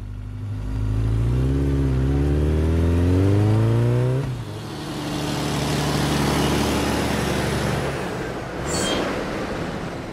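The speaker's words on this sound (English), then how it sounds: "Motorcycle." A motorcycle engine revs hard, its pitch climbing steadily for about four seconds before dropping back to a loud, rough running roar, with a brief hiss near the end.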